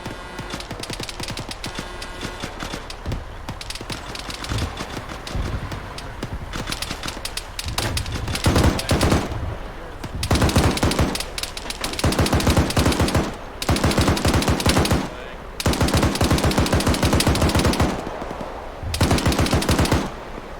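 Sustained automatic gunfire in the military game ArmA 3, loud rapid bursts and long volleys of shots with short gaps between them, heavy and close.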